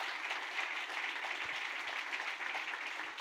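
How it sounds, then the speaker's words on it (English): Audience applause at a showcase event, a fairly faint, steady patter of many clapping hands that continues evenly without voices over it. "I think we can give him a round of applause."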